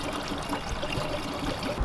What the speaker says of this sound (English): Now we're just dumping in straight water to fill the radiator